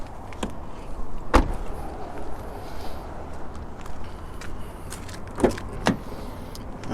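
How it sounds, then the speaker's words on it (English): Door of a 2018 Kia Sportage SX Turbo swung shut with one sharp, close thump, followed later by a few fainter clicks and knocks over quiet background noise. "So first off, I'm just going to close this door."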